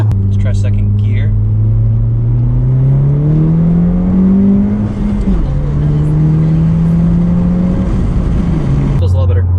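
A 2020 Honda Civic Si fitted with a TSP Stage 1 tune accelerates hard in second gear, its engine note climbing steadily and loudly from inside the cabin, with a brief shift dip midway and the pitch rising again to the end.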